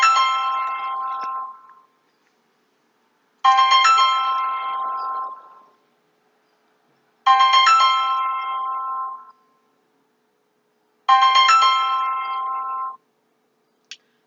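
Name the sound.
phone ringing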